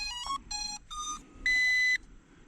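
Ameta S20 Lite 4K mini foldable camera drone and its controller powering on: a series of four close, loud electronic beeps, three short bursts followed by one longer tone, with no talking.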